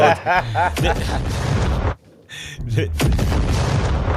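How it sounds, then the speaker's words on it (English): A triggered explosion sound effect bursts out in booming, gunfire-like blasts, loud and close, with a brief drop to near silence midway before the rumble resumes. "Just let me get the explosion button"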